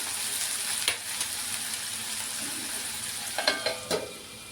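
Potato pieces and green chillies frying in a pan give off a continuous soft sizzle, with a few light stirring clicks near the end and no voices.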